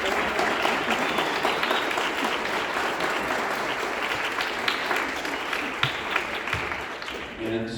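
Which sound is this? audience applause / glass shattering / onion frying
audience applause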